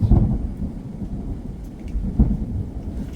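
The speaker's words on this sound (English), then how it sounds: "a lot of these storms, I feel like they kind of pop off and they expand." Thunderstorm on the Appalachian Trail in North Carolina: low rolling thunder rumbles near and heavy, with a bigger crack near the start and another later, over steady rain.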